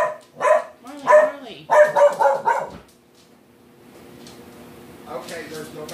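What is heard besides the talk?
dog barking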